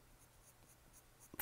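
Soft, faint scratching of a terra cotta Prismacolor colored pencil shading lightly on paper, a series of gentle rhythmic strokes close up in a quiet room.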